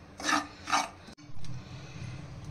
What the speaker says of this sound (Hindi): इस नारियल के बूरे को हम मिडल आंच में गोल्डन ब्राउन होने तक भून लेंगे।